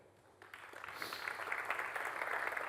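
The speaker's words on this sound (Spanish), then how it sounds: "Un aplauso para él." Applause from the audience at a technology conference on generative AI in Málaga begins quietly, then swells after a moment into sustained, moderately loud clapping that continues to the end.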